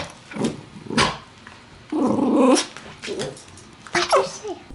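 A dog growling and barking up close: a few short barks, then a long rumbling growl, then more yips and barks, loud and in the foreground.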